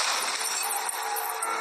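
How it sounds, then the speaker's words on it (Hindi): Continuous bright metallic jingling of anklet bells, a dense shimmering tinkle that carries steadily throughout, fairly close and fairly loud. "उसको पायल बजने की आवाज सुनाई देती है।"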